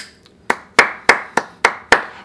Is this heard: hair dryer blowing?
no